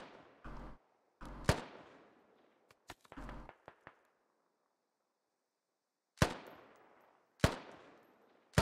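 Video game gunfire during a military squad operation: a few sharp cracks early on, a pause, then three loud isolated shots spaced about a second apart, with no talk.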